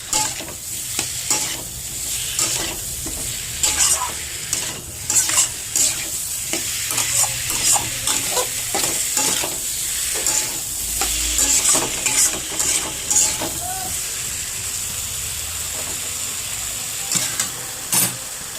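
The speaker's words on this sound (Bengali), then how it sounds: "সব কিছু কষিয়ে নেবো।" Potato and cauliflower sautéing in a pan for a fish curry, a continuous close sizzle broken by repeated scraping stirs of a spoon against the pan.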